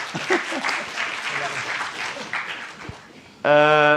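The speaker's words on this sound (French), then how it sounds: "alors là on peut applaudir" Clapping from the audience at a round-table discussion on electronic invoicing, a moderate patter of applause under a speaking voice, cut off near the end by a loud, sustained tonal sound.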